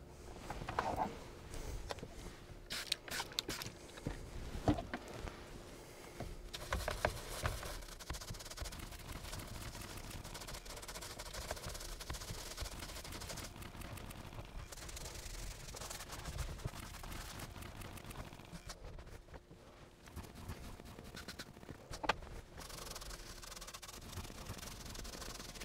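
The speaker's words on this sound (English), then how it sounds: "I'm going to attack in this stitching with a detailing brush" A detailing brush scrubs the stitching of a leather steering wheel during a deep clean, a soft, continuous scratchy rubbing in quick close strokes that runs on steadily with brief pauses.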